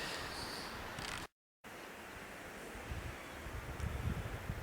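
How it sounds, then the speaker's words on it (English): Outdoor wind during a whitetail deer hunt in British Columbia, a low, steady rumble buffeting the microphone with faint rustling, broken by a brief dropout of near silence before the gusting resumes and swells slightly. "A little bit windy"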